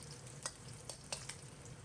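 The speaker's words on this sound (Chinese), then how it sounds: "把五花肉煸炒出油。" Quiet, steady sizzle of pork belly slices stir-frying over medium heat in a wok as the fat renders, with a few soft scraping stir sounds breaking through the hiss.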